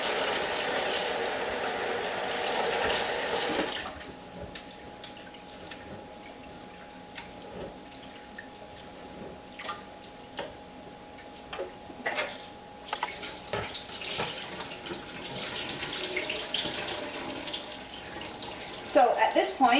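Tap water runs steadily while lentils for moong dal are washed in a sink, loud at first then giving way to softer splashing and handling sounds.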